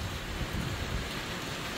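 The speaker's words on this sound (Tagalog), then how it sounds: "Ayan, umuulan na. Ang lalaki ng mga patak." Rain with large drops falls steadily outdoors by a house garden, a dense continuous patter and hiss with no voices.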